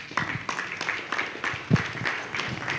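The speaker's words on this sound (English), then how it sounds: "Another round of applause for Hussein" Audience clapping at a banking conference after a talk, brief scattered applause with irregular claps, moderately close and fairly light.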